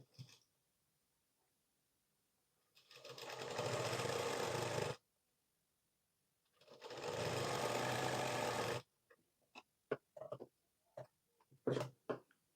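A sewing machine stitches a 40-inch blouse in two long, steady runs of loud motor whir, with a pause between them. Short clicks and handling knocks follow.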